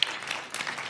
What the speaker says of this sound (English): I want to have a big round of applause to say thank you.